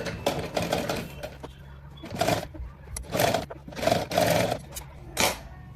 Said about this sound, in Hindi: इसमें किनारे किनारे से सिलाई लगाऊंगी।